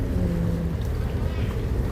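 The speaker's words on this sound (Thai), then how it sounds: "ได้เป็นเรือ ข้ามฟาก" A ferry boat crossing the river near Wat Bang Na Nok produces a steady low engine drone with wind buffeting the microphone, loud and continuous throughout.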